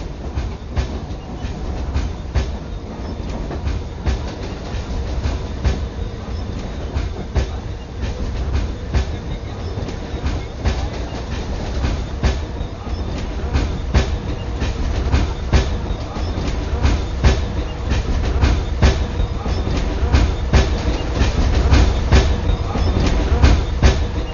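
Passenger train running on rails, a loud, continuous close rumble with rapid rhythmic clickety-clack of wheels over joints, heard from inside the carriage.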